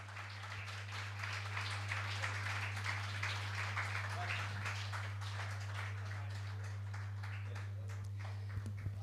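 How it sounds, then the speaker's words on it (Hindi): Audience applause at a Jain religious gathering with Muni Shri Praman Sagar, faint scattered clapping under a steady low hum, distant and quiet throughout. "तालियां बजनी चाहिए"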